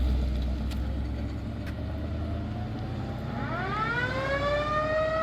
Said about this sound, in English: We just saw the squad car leaving stuff and Mayberry with the siren.